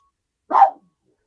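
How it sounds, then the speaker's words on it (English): A single short dog bark, fairly close and clear, standing alone against near silence in an indoor setting. "The dogs are barking."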